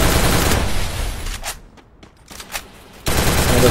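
Automatic gunfire in a shooter video game, loud bursts that fill the start and the end, with a brief quieter gap between them that holds scattered shots.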